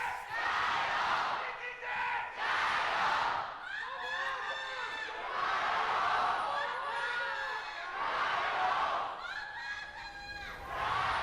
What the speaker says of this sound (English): We gotta get some crowd chants.